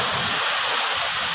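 Water rushes at Palsahingin Waterfalls in Indang, Calabarzon, a dense, steady hiss filling the whole moment with no pauses.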